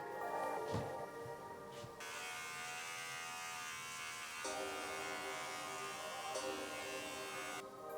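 Electric hair clippers fitted with a number 1 guard cut the sides of someone's own hair, giving a steady close buzz throughout. The pitch shifts slightly as the blades move through the hair.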